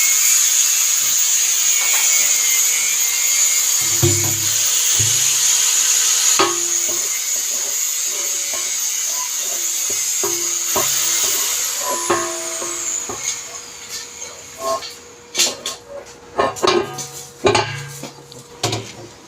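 An ice cream mixer is put together by hand, its parts and a nut fitted into place, giving scattered metallic clinks, taps and knocks that sharpen toward the end against a quiet high-pitched background.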